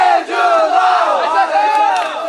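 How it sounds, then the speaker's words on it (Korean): A crowd of amateur players and supporters cheers and shouts loudly at a sunny outdoor baseball game after a scoring play, a dense sustained roar of many voices with no clear gaps. "승부를 가르는 꿀맛 같은 득점에 신나게 환호하며 더위를 날려버립니다"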